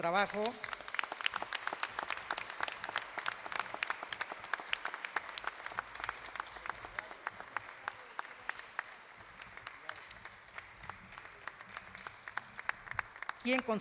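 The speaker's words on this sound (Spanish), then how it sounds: "vamos a darle un aplauso y su reconocimiento a Hugo Zacapanzi Quintero" A crowd applauds steadily, a dense patter of many hands clapping at moderate distance, sustained throughout before easing slightly.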